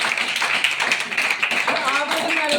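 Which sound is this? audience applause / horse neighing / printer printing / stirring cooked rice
audience applause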